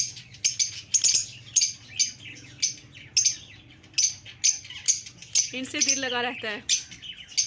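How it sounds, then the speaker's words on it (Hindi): Small pet birds kept in a rooftop cage chirp in quick repeated bursts throughout, fairly close, while someone speaks softly beneath them. "ये देख लें जी हमारे बर्ड्स जो शोर डाल रहे थे"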